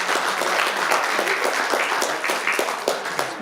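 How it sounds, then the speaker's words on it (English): An audience breaks into applause after a talk on Wendt & Kühn wooden figurines, a dense, steady clapping that continues throughout at moderate loudness without any voices. "let's give her another round of applause."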